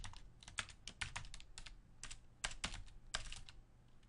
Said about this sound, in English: If I can type on this funny keyboard